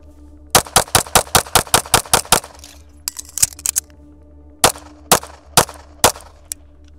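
Sharp pistol gunshots from an Atlas EOS handgun during a timed shooting drill: a rapid string of about ten shots, a short pause, scattered shots, then four more evenly spaced reports, loud and close.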